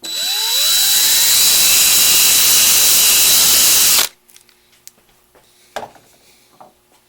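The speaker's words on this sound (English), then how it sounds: "Turn the drill just long enough to center mark it." A loud, steady power drill whines for about four seconds as its bit center-marks a black plastic cap on a 1968-69 Buick electric choke, then stops abruptly, leaving near silence with a few faint clicks.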